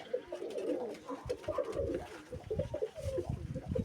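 Pigeons coo close by in a repeated rhythmic series of soft, throaty calls against faint background noise.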